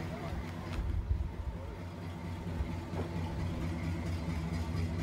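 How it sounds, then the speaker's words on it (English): Classic hot rod cars idle at a greaser club car show in a windy park in Moses Lake, a steady low engine rumble that holds without a break for the whole stretch, fairly close. "you also heard the sound of some classic horsepower from some classic cars"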